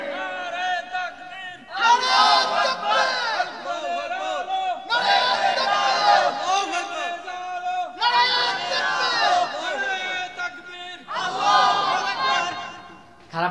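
A large crowd at an Islamic sermon gathering in Bangladesh chants the takbir in loud rhythmic collective shouts, repeated in several waves with a lead voice calling between them.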